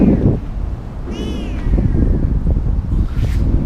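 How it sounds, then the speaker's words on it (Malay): A cat meows twice outdoors near the Penang Bridge, a clear close cry followed later by a fainter one, over steady wind and background rumble. "Ada kucing kita tu"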